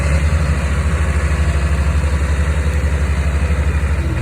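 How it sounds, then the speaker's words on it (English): Skid steer engine running at a steady idle, a low, pulsing rumble with no speech. "The skid steer you can see in the background, he's either scooping chips up"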